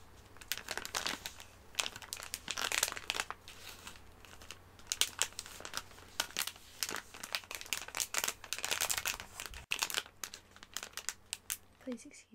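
Japanese candy wrapper being unwrapped by hand, giving close, steady crinkling and rustling bursts that run through the whole stretch and fade near the end.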